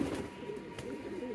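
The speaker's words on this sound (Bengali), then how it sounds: "কবুতরগুলো দেখেন আমাদের" Pigeons coo softly in a low, rounded murmur, fairly faint and steady, with no voices.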